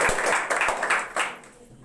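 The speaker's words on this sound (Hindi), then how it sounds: "इनके लिए जोरदार ताली लगाएं।" An audience claps loudly and densely for a student who gave a speech on education, a brief burst of crowd applause that fades toward the end.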